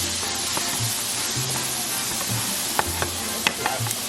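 Seasonings sizzle at the bottom of a pot for Caribbean-style chicken soup, a close continuous hiss broken by scraping and clinks of the utensil stirring.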